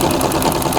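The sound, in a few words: sewing machine running during free motion quilting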